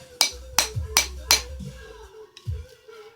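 A body hammer strikes tempered glass four times, sharp, loud and metallic in a steady rhythm, close by, followed by a fifth fainter knock; the glass holds without shattering.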